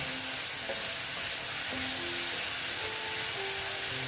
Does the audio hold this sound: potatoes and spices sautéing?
yes